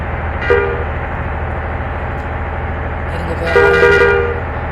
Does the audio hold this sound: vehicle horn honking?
yes